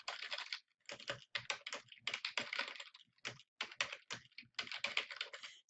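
Keys clatter on a computer keyboard in quick bursts of close, crisp typing separated by short pauses.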